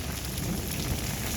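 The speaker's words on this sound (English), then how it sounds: "You can still hear the thunder." Heavy rain and hail storm over the Arizona desert, a continuous dense roar of falling rain with low rumbling thunder beneath it, steady and loud throughout with no voices.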